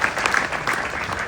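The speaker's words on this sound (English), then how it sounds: "So clap it up for that, please." Wedding guests applaud after a best man's speech, a brief burst of dense, close clapping from a roomful of people.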